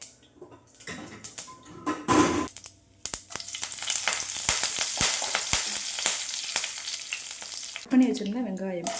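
Spices such as fennel tempering in hot oil for a Tamil-style prawn dish, giving a loud, steady sizzle with sharp crackles and pops, opening with some handling clatter and ending with a brief vocal sound.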